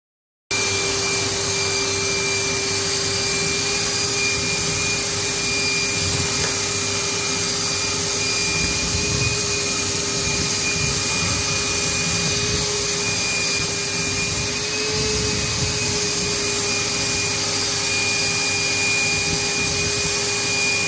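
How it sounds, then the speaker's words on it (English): A vacuum cleaner with extension pipes runs continuously at close range while sucking loose insulation out of a house's cavity wall, a loud steady whine with a constant tone and occasional rattling of material through the hose. "it took a long time and I had to keep emptying the pipe on the vacuum"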